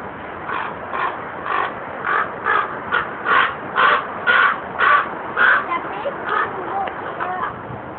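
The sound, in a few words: raven cawing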